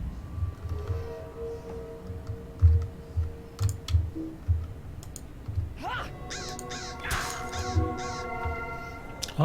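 Crows caw in the online fantasy game Lord of the Rings Online, rhythmic game sounds and scattered calls under keyboard typing and clicks, moderately loud with a brighter burst of game effects toward the end.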